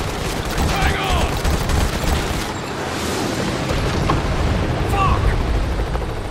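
Dense gunfire and explosions from the video game Modern Combat roar continuously under a player's shouted exclamation, with the loud battle noise never letting up.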